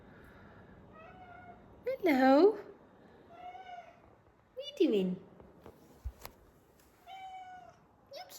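A kitten meows several times, close and fairly loud, with rising and falling cries spaced a few seconds apart, while someone speaks softly to it between the calls in a quiet home.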